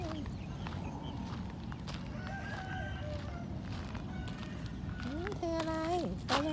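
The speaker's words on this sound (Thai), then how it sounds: "พี่ไก่อยู่นี่" Hens cluck in a busy farmyard with scattered background voices, then a rooster crows loudly near the end.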